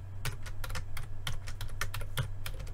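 Fingers type a password on a computer keyboard, a quick uneven run of close, crisp key clicks continuing without pause.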